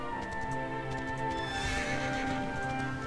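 A horse in the video game Dragon Quest XI S neighs with a long whinny over rhythmic galloping hoofbeats and a background music bed, all close and clear.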